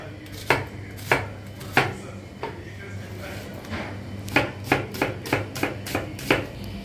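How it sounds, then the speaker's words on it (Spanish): A knife chopping onion and garlic on a cutting board at home, sharp close knocks, a few spaced strokes and then a quicker regular run of chops over a faint background hum. "el ajo y vamos picando"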